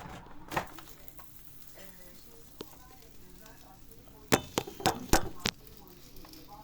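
Pide toast fries in oil on a grill with a low steady sizzle, broken by a cluster of sharp metallic clanks and scrapes from the cooking tools, while a voice talks quietly nearby.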